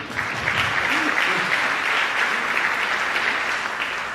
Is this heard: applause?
yes